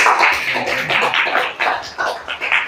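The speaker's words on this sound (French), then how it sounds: "C'est pour cela que doublement je vous demande de l'applaudir." A roomful of seniors at a club birthday gathering applauds steadily, dense clapping rising and dipping in short waves without pause for nearly three seconds.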